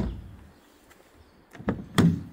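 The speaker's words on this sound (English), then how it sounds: "Door opens, door closes," A 2006 Cadillac CTS-V car door is handled: quiet rustle, then a couple of sharp clunks near the end as it opens and shuts close by, with no talking.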